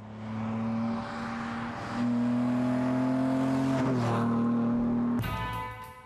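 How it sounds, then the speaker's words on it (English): A 1968 MGC GT Sebring's 3-litre six-cylinder engine runs close by, its steady drone dipping briefly and then rising to a stronger held note before shifting pitch at the end, with no talk. "Under the hood is a real whopper of an engine, a 3-liter single-cast six-cylinder block."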